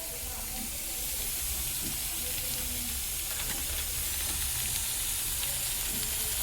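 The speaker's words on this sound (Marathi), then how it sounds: "थोडा बेसन तेलामध्ये करून घेतो, त्याच्याने घट्टपणा येतो." Gram flour (besan) frying in oil for dhaba-style paneer bhurji gives a soft, steady sizzle and hiss, faint and continuous throughout, with no talking.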